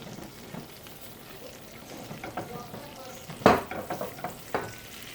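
Melted butter and olive oil are stirred in a pan with a quiet bubbling sizzle, broken by a few sharper utensil scrapes and clicks toward the end.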